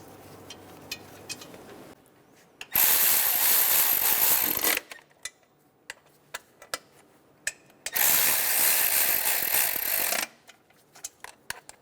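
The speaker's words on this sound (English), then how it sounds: "Go around snugging down the bolts." A ratchet tightens the valve cover nuts on a 2003-2007 Honda Accord 3.0L V6, with two long bursts of loud, dense clicking separated by quieter stretches of scattered ticks and taps.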